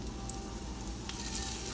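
Rainbow trout with a pretzel crust sizzling in hot oil, a steady close crackling fry with small pops, constant and alone.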